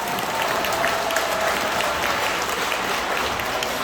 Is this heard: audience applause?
yes